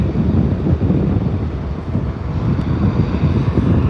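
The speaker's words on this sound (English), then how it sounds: "TUI 737 heading out." A TUI Boeing 737 jet heads out at Birmingham Airport, producing a steady, broad roar of engine noise mixed with wind buffeting on the microphone, continuous and moderately loud throughout.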